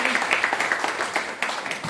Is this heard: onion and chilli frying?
no